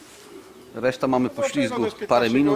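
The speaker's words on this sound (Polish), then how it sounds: "dwa gołębie weszły, teraz trzeci, czyli mam już 7 czy 8 gołębi" Racing pigeons arriving at a loft during a competition flight, giving soft coos and wing sounds close by while someone talks over them nearly throughout.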